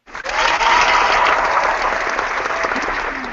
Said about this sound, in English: So let's all clap for her.